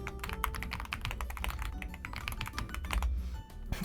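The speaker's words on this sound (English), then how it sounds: "You can hear Kuri and I typing." Two people type on computer keyboards in fast, continuous clicking bursts, close and steady for several seconds with no talking.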